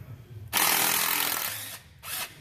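A power ratchet or drill-driven socket spins on the 8mm center valve cover bolts of a Monte Carlo SS, a loud close whirring burst lasting over a second, then a brief pause and a shorter second burst.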